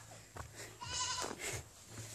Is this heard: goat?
yes